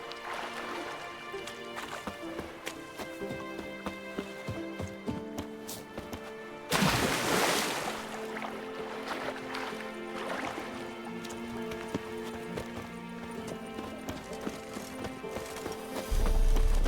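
Hooves clip-clop steadily under a music bed as a horse moves along in Witcher 3: Wild Hunt. About midway a burst of louder rushing, scuffing noise breaks in.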